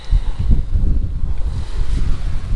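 A sailboat motoring on open sea off Cape Verde with no wind to sail: a loud, continuous low engine rumble mixed with wash and rushing water around the hull, steady throughout.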